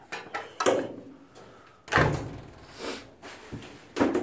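A latch on the door of a deer blind built from a corn wagon clacks and rattles in several short metallic knocks and scrapes, fairly close and moderately loud, with quiet gaps between.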